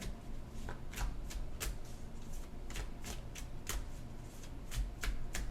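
Tarot cards being shuffled by hand in a quiet room, a steady run of crisp riffling bursts and soft slaps repeating every half second or so, close and clear with no talking.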